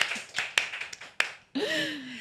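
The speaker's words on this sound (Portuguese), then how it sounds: "Palmas lentas!" Slow, spaced hand claps, about half a dozen sharp slaps at uneven intervals, close and fairly quiet, with a brief voiced sound near the end.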